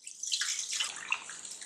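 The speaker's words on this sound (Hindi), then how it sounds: "इसमें हम थोड़ा सा और पानी डाल देते हैं" Water poured into a pot of cooking dal, a brief close splashing trickle with bright bubbling, short and alone.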